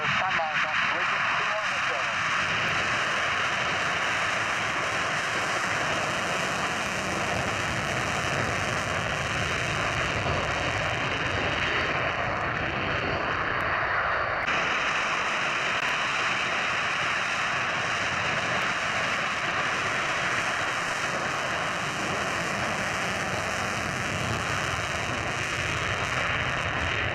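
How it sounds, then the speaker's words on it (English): A jet aircraft running on afterburners at Lakenheath roars at dusk with a sustained, broad rumble that holds for the whole stretch, and voices sound over it. "as you can see by those afterburners, it's obviously getting starting to get dark when this was filmed at Lakenheath"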